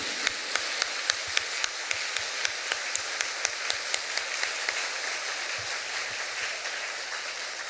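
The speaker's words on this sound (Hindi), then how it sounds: "आओ इस सुंदर बुलाहट के लिए, इस सुंदर समय के लिए हम जोर से ताली बजाकर परमेश्वर को धन्यवाद देंगे" Sparse, distinct claps ring out at a steady rhythm in a worshipping crowd at a church night vigil on New Year's Eve, over a soft hiss, fairly quiet rather than thunderous.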